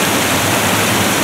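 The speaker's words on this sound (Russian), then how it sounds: "Водопад небольшой этот обошла." A small waterfall near a stream confluence in the Verkhoyansk Range, heard as a steady, loud broadband rush of falling water that stays even and unbroken, with no voices over it.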